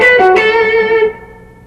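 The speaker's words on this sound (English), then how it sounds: "it involves a tremolo type picking pattern using the pick, really fast, rapid fire picking" Electric guitar blues lick with rapid tremolo picking, a quick flurry of distorted picked notes followed by a sustained note that rings out and fades over about a second.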